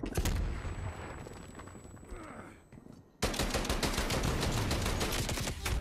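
Automated sentry turret in a multiplayer shooter video game firing sustained rapid bursts, a dense mix of gunfire in the first seconds before the turret opens up loud and continuous near the end.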